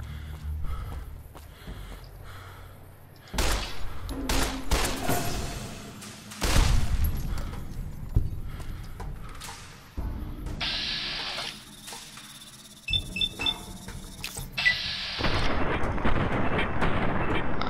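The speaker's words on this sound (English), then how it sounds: "Just shooting geckos left and right." Gunfire at geckos in the Fallout video game, with several loud bursts of shots and impacts spread across the stretch, some sharp single cracks and some denser volleys, amid game ambience.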